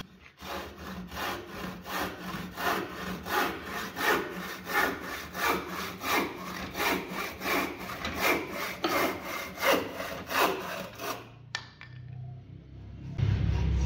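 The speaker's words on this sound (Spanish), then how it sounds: "Vamos a hacer un corte y vamos a hacer más o menos la misma fuerza para ver la diferencia en cuánto tiempo corta la" A Japanese handsaw cuts through a wooden board in steady, rhythmic push-pull strokes, loud and close, for about eleven seconds before the sawing stops and a brief bump follows.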